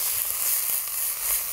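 Ingredients sizzle and crackle in a hot pan while being stir-fried for a spicy Korean pancake, a steady close hiss with no pauses.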